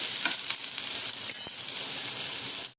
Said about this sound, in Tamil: போட்டு நல்லா வதக்கலாம் இது வதங்கிறதுக்கு கொஞ்சம் உப்பு போட்டுக்கலாம் கொஞ்சம் வதங்கட்டும்